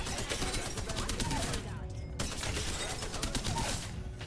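Rapid gunfire in a firefight in Apex Legends, dense continuous bursts of shots with crackling impacts throughout, loud and close, with game sounds layered over.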